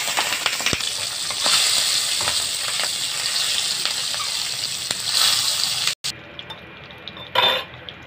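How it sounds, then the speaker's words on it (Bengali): Salt-and-turmeric-coated tengra fish fries in hot oil with a loud, steady sizzle. Stirring clatters briefly against the pan, and the sizzle drops after a short break near the end. "তো মাছটা নুন হলুদ মাখাই দিয়েছি, এবার ভেজে নেব মাছটাকে।"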